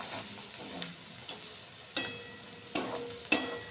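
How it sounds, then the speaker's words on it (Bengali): Spices being stirred through hot oil in a pan for Bengali-style achari dal, chili powder and asafoetida among them. A soft steady sizzle runs under a few sharp scraping strokes of the spoon against the pan. "এবার নাড়াচাড়া করে মিশিয়ে নিচ্ছি।"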